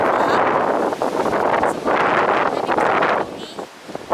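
Strong gusts of wind batter the microphone outdoors in a loud, continuous roar that swells and dips in surges, briefly easing near the end before another burst.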